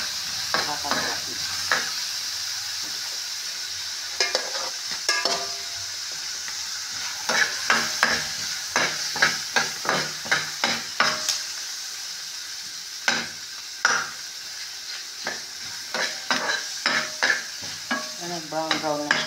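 Onion, garlic and tomato sauté in a pan, a soft steady sizzle under repeated sharp clacks of a spatula stirring, coming in uneven bursts that grow busier toward the end.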